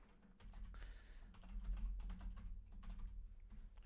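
Keys on a computer keyboard are tapped to enter a password, a quiet, close run of light irregular clicks over a low background hum.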